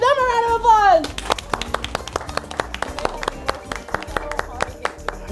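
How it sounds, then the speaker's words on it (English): Students at an Austin ISD elementary school clap for their teacher, sharp irregular hand claps following a brief stretch of voices at the start, with background music-like tones underneath. "let's give them a round of applause"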